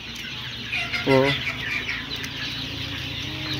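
White layer hens and one-month-old farm chickens on a poultry farm, a loud close clucking burst near the start over a steady murmur of flock chatter, with someone talking.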